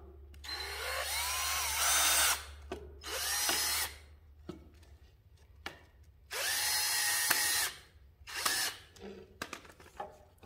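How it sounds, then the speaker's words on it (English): A power drill drives screws into hard chair material in four separate bursts of whining, rising motor noise, each lasting about a second or two, with quiet handling clicks in between. "it looks like 4 of these screws you have to use a drill with"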